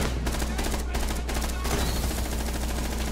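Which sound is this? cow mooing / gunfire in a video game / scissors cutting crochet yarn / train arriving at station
gunfire in a video game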